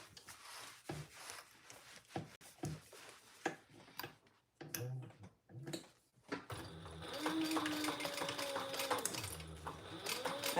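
Domestic sewing machine stitching fabric, first in short stop-start bursts of rapid ticking needle strokes, then a longer continuous run of whirring stitches, close and fairly quiet.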